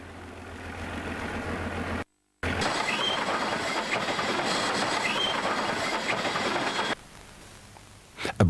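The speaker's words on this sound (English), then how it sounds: "Goods trains often crossed here, as in this case, hauled by a 48-class diesel electric loco." Goods train hauled by a 48-class diesel electric locomotive rolls past close by, a steady rumbling roar with rhythmic wheel clatter over rail joints, briefly cut by a gap, then ending abruptly into quieter ambience.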